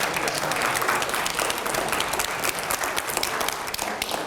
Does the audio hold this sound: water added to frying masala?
no